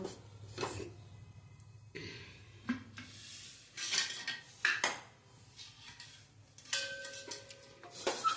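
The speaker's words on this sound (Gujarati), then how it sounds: "હવે આપણે એને માટે ગેસ પેટાવીશું હવે ઉપર કુકર ચડાવીશું" A pressure cooker clanks onto a gas stove amid scattered kitchen clatter and clinks, several sharp knocks spread across a fairly quiet room.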